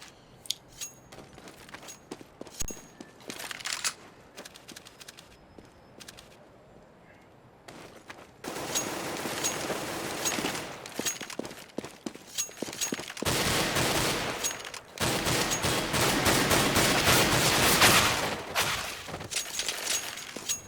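Rapid game gunfire in a match of Overwatch, with dense automatic bursts and crackling shots that run almost without pause and grow louder and busier partway through, with no voices.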